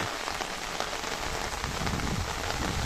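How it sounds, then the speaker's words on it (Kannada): Heavy rain pouring down steadily on the Bhagamandala–Madikeri road, a loud, dense hiss of drops hitting surfaces with no voices. "ಮಳೆ ಜೋರಾಗಿ ಸುರಿತಾ ಇರೋದ್ರಿಂದ ಇನ್ನೊಂದು ಗಂಟೆಯಲ್ಲಿ ನೀರು ಬರ್ಬೋದು ಅಂತ ಅನಿಸ್ತದೆ"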